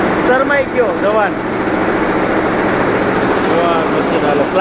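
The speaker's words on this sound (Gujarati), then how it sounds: "મશીન હાલે, સ્લાઇડરનું મશીન છે." A thread coning slider machine runs with a loud, continuous mechanical drone in a small workshop, a steady whirring hum across the whole stretch.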